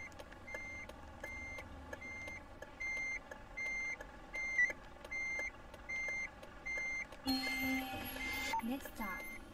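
Repeated reversing beeps from a bus in Bus Driving Simulator 22, sounding in a steady on-off rhythm of short tones over engine hum, with a brief louder burst of noise near the end.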